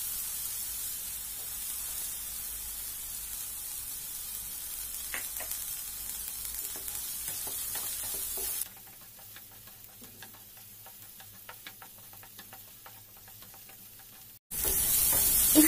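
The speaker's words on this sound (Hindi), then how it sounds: "यहाँ सब्जियों को हमें बिल्कुल बॉईल नहीं करना है, हल्का इसको क्रंची फ्राई करना है" Capsicum and carrot stir-frying in a pan for Indian-style pasta, a close steady sizzle with light stirring ticks that drops to a quieter hiss midway, then swells loud again at the end.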